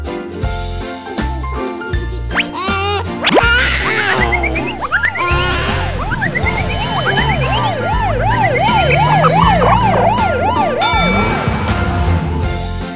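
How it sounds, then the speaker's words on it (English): A wailing ambulance siren rises and falls in repeated sweeps, loud and close, layered over a busy, jingling musical backdrop. "Ambulance."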